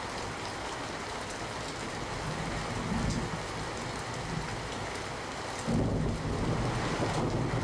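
Heavy rain falls across Surat city as a steady, broad hiss, with wind buffeting the microphone. The rain is fairly faint and grows louder in a surge near the end, and no one speaks.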